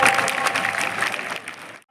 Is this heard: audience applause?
yes